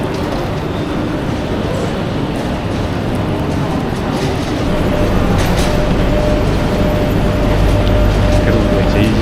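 A steady, loud rumble of a moving train on a ride from Paris to Saint-Jean fills the cabin, with continuous low wheel and track noise that grows slightly louder toward the end.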